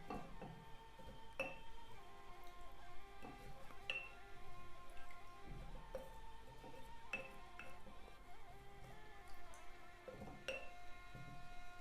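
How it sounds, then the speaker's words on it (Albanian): Glass jars being filled with chopped quince, giving sparse, faint clinks and light taps of glass spaced a few seconds apart over a quiet kitchen background, with no talking. "kështu me shumë kujdes i mbushim gjithë kavanosat në mënyrë të njëjtë me ftoj të coptuar"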